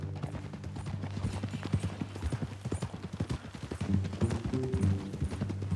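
Horse hooves clip-clopping at a steady walking pace in Red Dead Redemption 2, close and rhythmic over a low background hum, with a voice talking briefly under the hoofbeats.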